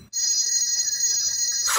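Phone-ring alarm tone on a Kstar ANJANK AC003 dual alarm clock, a continuous bright electronic trill that starts abruptly after a short gap and holds at even loudness to the end.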